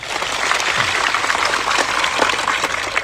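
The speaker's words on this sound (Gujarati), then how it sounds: "સૌ માટે એકવાર જોરદાર આપણે તાળીઓ પાડી લઈએ" Sustained applause from the audience at an open rally held to save the Aravalli hills, a steady wash of many hands clapping at moderate volume from start to finish.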